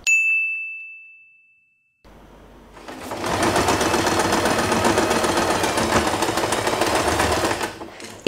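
A sewing machine stitches the tails of a hair bow in one loud, continuous run lasting several seconds, preceded by a clear bell-like ding and a short pause.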